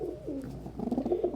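Pet pigeons coo softly up close, a quiet run of low, throaty warbling murmurs that rise and fall in a short continuous burst.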